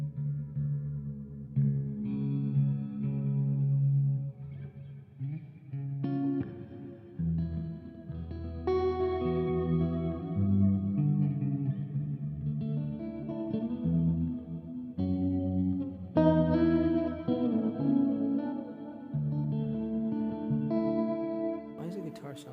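An old electric guitar, sounding off, is played through heavily layered effects like chorus, distortion and echo during a live-streamed home performance, strumming chords continuously at moderate loudness with no break.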